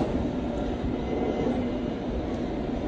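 London Underground Circle Line train running between Edgware Road and Hammersmith, a steady close rumble and rattle heard from inside the carriage with no voices.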